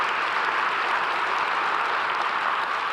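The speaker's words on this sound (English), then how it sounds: "Can we please give her a round of applause?" An audience at a recovery-themed conference applauds an honored guest, producing a brief, loud, continuous wash of clapping with no voices over it.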